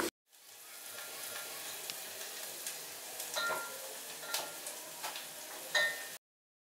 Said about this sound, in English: We are going to cook onions until translucent or until tender.